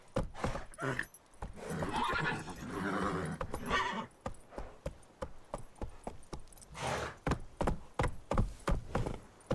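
Geralt's horse Roach in The Witcher 3 video game gives a loud whinny early on, then gallops in a fast, steady run of close hoofbeats that carries to the end.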